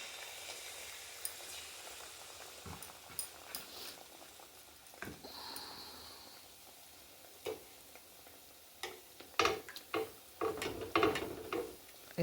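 Palm-fruit malpua batter dropped into hot oil in a village kitchen, giving a quiet, close sizzle with scattered crackles and pops that grow busier toward the end.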